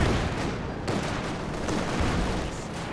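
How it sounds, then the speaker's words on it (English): Sustained rattling gunfire from a machine gun in the video game Company of Heroes 2, a loud, dense stream of bursts with distant booms mixed in during a 2v2 battle, no voices. "Ultimately getting forced away by the machine gun"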